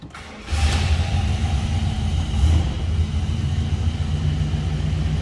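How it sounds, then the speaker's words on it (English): A 1970 Oldsmobile Cutlass Supreme convertible's 350 V8 cranks and fires after a brief quiet moment, settling at once into a steady, loud, close idle with a low rumbling drone that swells briefly midway. "Go ahead and fire it up so you can hear it run"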